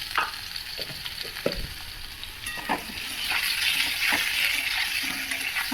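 Potatoes with salt and turmeric sizzle in hot oil in a pan, a continuous crackling fry punctuated by several sharp stirring knocks, growing slightly louder and denser toward the end.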